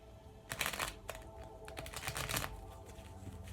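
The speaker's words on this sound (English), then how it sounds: "So I'm going to go ahead and start shuffling." A deck of tarot-style cards is riffled and shuffled close by, giving bursts of crisp papery flutter and slaps in quick clusters, then softer shuffling, with no talking.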